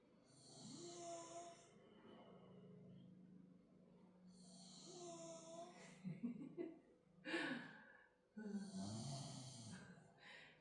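A woman snoring loudly during a morning yoga session, with three long rasping snores in a slow, steady rhythm, each followed by snorting, gasping breaths, close to the microphone and heard alone.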